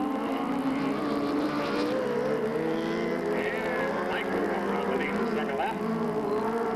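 Race cars roar around a dirt speedway oval at a 1997 evening race, a loud continuous engine drone with cars passing and sliding by, while a track announcer talks over the noise.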